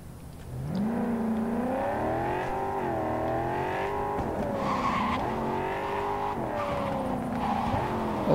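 A car in Cyberpunk 2077 roars loudly, engine revs climbing and dropping as the tires squeal through hard, sliding turns, continuous and up close with no voices.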